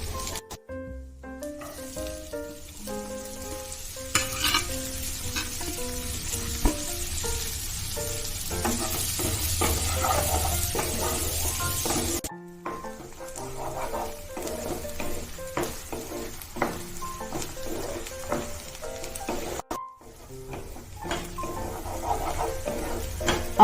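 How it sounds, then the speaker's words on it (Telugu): Thinly sliced onions and green chillies frying in a pan for a paneer dish, a continuous sizzle with frequent scraping stirs and clinks of a spoon against the pan, close up, with two brief pauses. "దీంట్లో మనం సన్నగా కట్ చేసి పెట్టుకున్న ఆనియన్స్, చిల్లీస్ వేసి దోరగా ఫ్రై చేసుకోవాలి"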